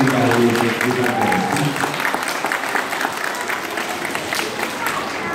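An audience applauds at an event in Grosseto, steady clapping that starts strong and continues at a moderate level, with a voice talking briefly at the start.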